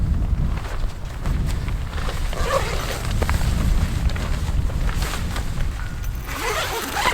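Steady wind roars and buffets the microphone high up throughout, with faint rustling and flapping of a wearable tent's fabric beneath it.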